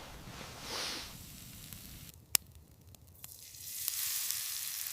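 Close sizzling and crackling of food cooking over a campfire in winter, with soft hissing swells and a few sharp pops, no voices.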